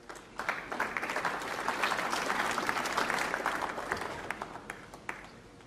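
A capacity crowd at a Champion of Champions snooker semi-final bursts into applause, the clapping swelling quickly, holding steady for several seconds, then thinning out into scattered claps.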